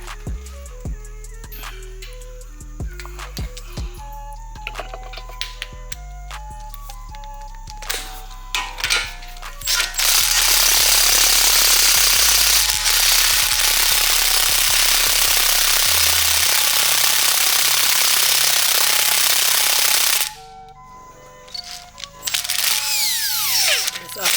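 A socket tool loosens a lower control arm nut on a 2013 Nissan Altima SV front suspension. After a stretch of humming tones, a loud, sustained, rattling power-tool burst runs for about ten seconds, then returns briefly after a pause.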